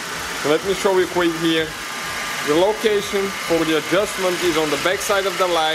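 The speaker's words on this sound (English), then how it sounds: "We have the engine running, sorry for the noise, but that's the only way to have the lights on." A Mercedes W204 C-Class engine idles steadily under an open hood, a low continuous hum heard close by beneath a voice explaining a headlight adjustment.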